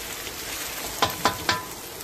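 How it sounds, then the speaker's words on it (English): Courgette, aubergine and okra stir-fry in hot oil with a soft, steady background sizzle, broken by three quick crackling pops in close succession, heard up close with no voices. "Looking like a really good stir fry, but we are going to turn it into a sauce"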